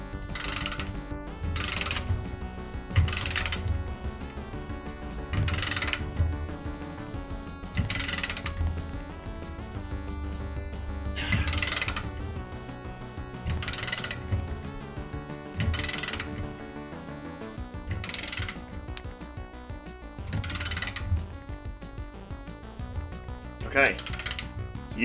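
A torque wrench set to 50 drives an M8 rivnut: a series of sharp ratcheting clicks in a steady rhythm with short pauses, up close, and someone talking now and then.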